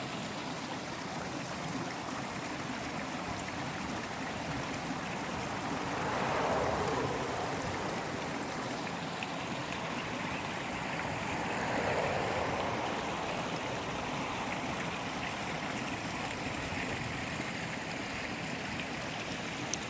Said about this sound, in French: dans la nature, près d'un ruisseau